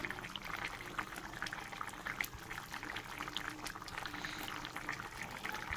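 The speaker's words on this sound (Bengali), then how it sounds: "এরপর আমি ধনে পাতা দিয়ে দিলাম, কিছুক্ষণ ফুটিয়ে তোমাদেরকে দেখাবো" Fish curry with coriander leaves bubbling in a pot, a steady, close, continuous simmer with soft pops and crackles and no talking.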